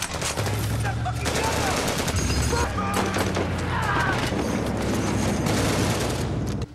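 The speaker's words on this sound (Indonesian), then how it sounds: "Peleton ini juga dihajar peluru dari seluruh penjuru, kiri, kanan, atas, dan bawah." Gunfire in a war film battle scene during the invasion against Saddam Hussein's troops, dense rapid bursts of machine-gun and rifle shots almost continuous and loud, with crashes and a low rumble throughout.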